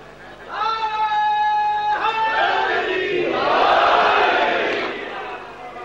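At a religious sermon gathering, one loud voice calls out a slogan and a crowd answers in a swelling roar of many voices that rises, peaks and fades.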